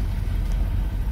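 Steady low engine rumble from an M1028A2 CUCV truck rolling along a dirt road in front-wheel drive only, a continuous, close drone with no voices.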